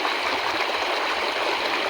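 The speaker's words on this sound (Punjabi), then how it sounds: "ਦੇ ਲੋ ਆਵਾਜ਼ ਕਿਦਾਂ ਆਉਂਦੀ ਪਾਣੀ ਦੀ" Floodwater rushes steadily through rice paddies drowned by heavy rain, a continuous loud hissing gush like a stream pouring through a breach, with no voices.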